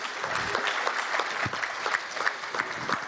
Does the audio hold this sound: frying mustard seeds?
no